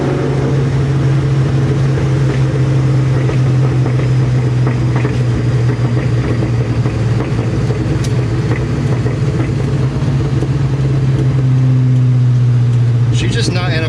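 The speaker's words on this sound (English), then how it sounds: "There's the cam sputters. Listen to it. All those cams." A cammed Terminator Cobra engine drones loud and close while coasting downhill, with a rough, choppy idle-like burble and a few sputters, and someone talks over it throughout.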